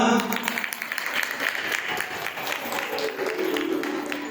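Loud, sustained applause from the audience at a Bhagavat Katha religious gathering at a Parshuram temple in Panipat, dense clapping filling the whole stretch with crowd murmur mixed in.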